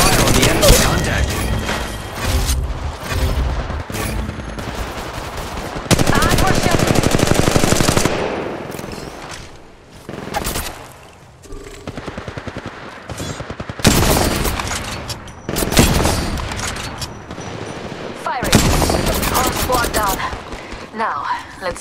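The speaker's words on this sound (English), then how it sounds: "Opening fire on the enemy." Apex Legends Mobile gunfire rattles in rapid automatic bursts and single shots, loud and close, broken by short pauses between volleys over about twenty seconds.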